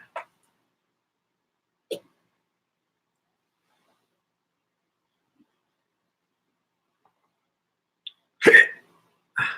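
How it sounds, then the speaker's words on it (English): Someone hiccups in a quiet room, a few sharp isolated hiccups spread out with long silences between, then two louder ones close together near the end. "I have the hiccups."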